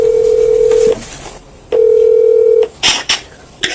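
A phone placing a call plays two long, steady ringback tones separated by a pause, loud and close, followed by a few sharp clicks and crackles.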